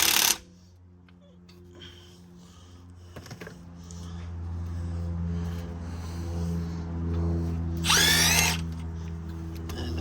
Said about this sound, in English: I've got my trusty stubby impact here that can make a breeze out of these